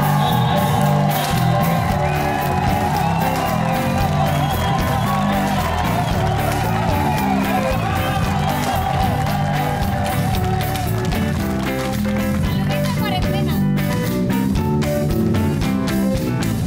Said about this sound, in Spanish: Un aplauso, por favor, a la gran Stephanie Cayo